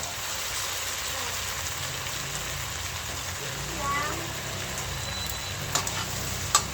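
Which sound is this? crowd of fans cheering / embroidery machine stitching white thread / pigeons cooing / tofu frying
tofu frying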